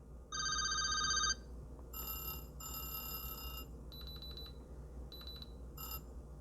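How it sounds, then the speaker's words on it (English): Electronic alarm beeps from a Samsung Galaxy Watch 8 Classic in bursts: a loud double-tone ring, then several shorter chirping patterns at differing pitches, all close and clear over a quiet background hum. "You can also select an alarm sound."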